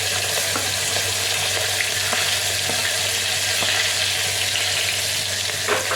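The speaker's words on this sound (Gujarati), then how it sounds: "ડુંગળીને થોડીક આપણે સાતળવા દઈશું." Onions sautéing in hot oil with asafoetida give a steady, close, dense sizzle and crackle that holds evenly throughout with no pauses and no voices.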